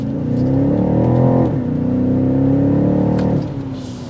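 A 2022 BMW X6 M50i with a twin-turbo V8 accelerating hard, its engine note rising in loud harmonic sweeps, briefly dropping at a gear change, then climbing again before backing off near the end.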